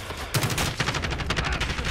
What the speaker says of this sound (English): I'm trying out this lever action carbine or marksman rifle.